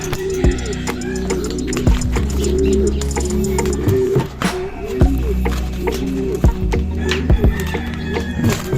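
Pigeons cooing close by in a loft, repeated low rolling coos overlapping steadily, with wing flutters and shuffling, and a person talking faintly in the background.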